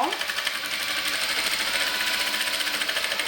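A sewing machine stitches a Bible cover with a steady, rapid mechanical whir and rhythmic needle pulses, continuous and close throughout.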